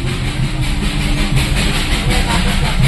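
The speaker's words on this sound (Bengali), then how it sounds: "toy train" Darjeeling toy train running on the mountain line near Ghum, a steady close rumble of rail wagons and engine with faint clickety-clack throughout.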